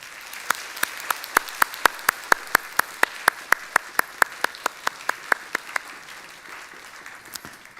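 During a Sunday morning church service, sharp, evenly spaced claps ring out in a steady rhythm of about three per second, close and distinct, then thin out and stop near the end.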